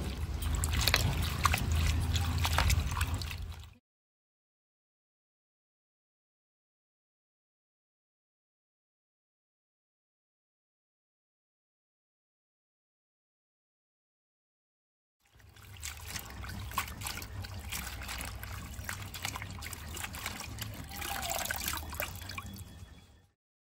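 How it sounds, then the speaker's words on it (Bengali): Leafy greens being washed by hand in water, steady close splashing and dripping in two stretches separated by a long silent gap. "এবার আমি শাকগুলো ধুয়ে নিয়ে আসছি।"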